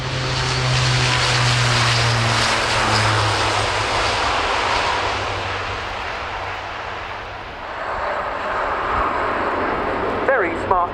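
An Airbus A400M Atlas military transport turboprop performs a flying display at an airshow, a loud propeller drone and roar that swells then slowly fades, with a commentator talking over it.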